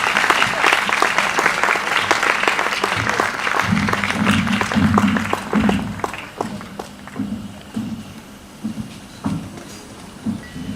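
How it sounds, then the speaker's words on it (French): An audience applauds to welcome a speaker, starting as loud, dense clapping with footsteps and movement mixed in, then thinning to scattered, fading claps toward the end. "Sous vos applaudissements, s'il vous plaît."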